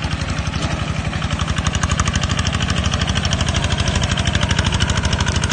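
A Golden Lion tractor engine drones steadily while mowing thick grass, a loud, close, fast pulsing chug that holds an even throb throughout.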